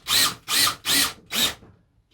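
Power drill driving self-tapping screws into a custom dashboard for a 1950 Ford Shoebox leadsled, four short whirring bursts in even succession, close and loud, with no talk.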